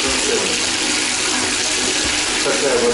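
Murky, discolored water runs steadily from a household tap into a basin, a continuous close splashing rush filling the whole moment with no pauses.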